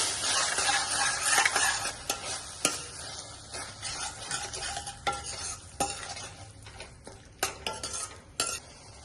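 A spoon stirs chilli sauce, tomato ketchup and dark soy sauce together in a hot pan for veg manchurian, scraping and clinking against the metal in irregular strokes over a soft sizzle.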